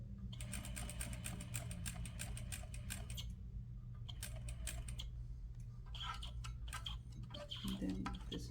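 Sewing machine slowly stitching fabric for a set-in sleeve: rapid, even needle ticking in several runs separated by brief pauses, close and fairly quiet over a low hum.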